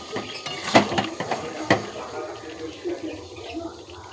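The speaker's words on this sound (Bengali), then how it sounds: "এবার একটু নাড়াচাড়া করি।" Chicken curry being stirred in a pot, a spoon scraping and knocking against the metal in a few irregular clinks and sloshes, with soft kitchen background and a voice talking at moments.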